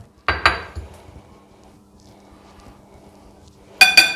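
A spoon clinks against a bowl while chicken keema is mixed with grated cheddar: a couple of sharp metallic knocks near the start, quiet scraping in between, and another bright clatter at the end.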